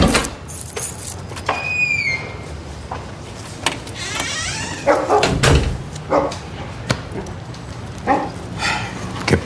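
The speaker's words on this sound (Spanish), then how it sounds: "Ay, eres la perra más guapa del mundo." A dog whimpers and whines in short, high, wavering cries scattered through a roomy interior, with people talking nearby and occasional thumps and door-like knocks in the background.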